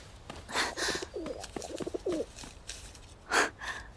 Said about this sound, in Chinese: 你在这儿还有鸽子呢